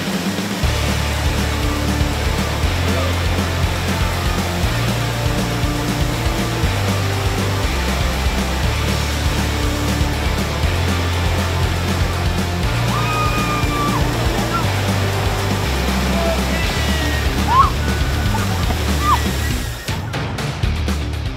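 A kayak drops down a near-vertical waterfall on the Amprong River, buried in a continuous loud roar of rushing white water. Someone narrates over it at times, and the roar holds steady throughout before a brief shift near the end.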